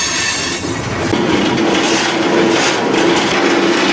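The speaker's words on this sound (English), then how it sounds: "this is a loud train" A freight train grinds slowly up a mountain grade on the way to Grafton, West Virginia, its steel wheels squealing in a steady high whine over a loud, continuous rumble and clatter, close by with no talk.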